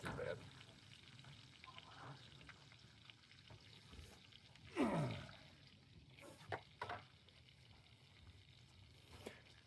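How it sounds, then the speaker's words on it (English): Bacon sizzles quietly in a frying pan in the morning on a river trip, a soft, steady crackling hiss. A brief scrape or clatter comes midway, with no talking. "The sound of bacon cooking in the morning"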